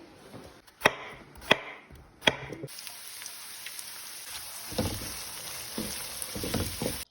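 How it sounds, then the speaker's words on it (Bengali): A bottle gourd is cut on a kitchen board with a few sharp, separate chops near the start, followed by a steady hiss in the background. "লাউটা কেটে ফেলবো এখন"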